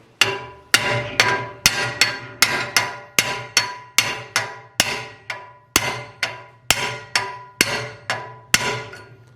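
Sharp metallic hammer blows drive a bearing's inner race off, struck through a piece of steel strut, landing in a steady even rhythm of about a dozen close, loud impacts, each ringing briefly before the next.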